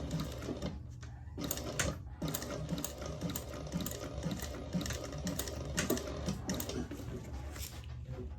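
A sewing machine stitches steadily through the whole stretch, its motor hum and rapid needle clatter close and continuous, with a couple of brief pauses between runs of stitching.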